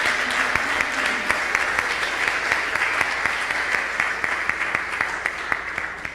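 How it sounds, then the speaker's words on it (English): Steady applause from an in-person crowd at a Raleigh City Council candidate assembly, dense clapping filling the room for several seconds with a few louder individual claps standing out. "So feel free to clap and make yourself known right now"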